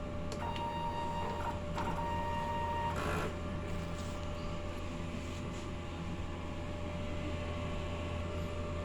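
DTF printer running a print head cleaning cycle: a steady mechanical hum with a constant whine, brief motor tones and clicks early on and a short burst of pumping noise near the three-second mark, fairly quiet throughout.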